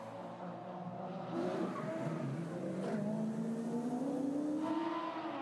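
Porsche GT4 race cars battling at the Nürburgring during a GT4 European Series race, engines droning steadily with a rising pitch as they accelerate, loud and sustained throughout with no talk.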